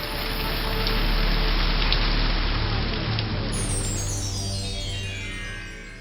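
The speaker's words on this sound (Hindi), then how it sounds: "अरे बाप रे, इतनी बारिश शुरू हो गई।" Heavy rain pours down in a dense, loud, continuous hiss that swells and then gradually eases off toward the end.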